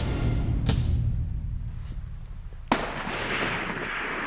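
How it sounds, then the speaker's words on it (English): Rifle shot while hunting mule deer outdoors: a single sharp crack early on, then a second loud report with a long rolling echo, heard over steady wind or background noise, with no speech. "he pulls the trigger"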